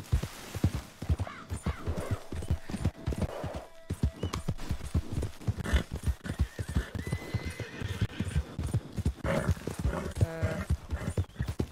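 Horses walking close by outdoors, hooves clip-clopping in a steady uneven patter throughout, with occasional whinnies and people talking faintly in the background.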